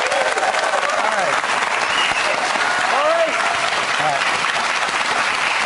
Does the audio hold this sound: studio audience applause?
yes